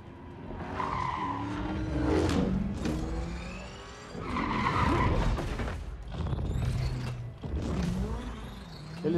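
Car tires squeal and skid repeatedly in Injustice 2, a few loud drawn-out screeches with mechanical creaks, close and clear with no talking over them.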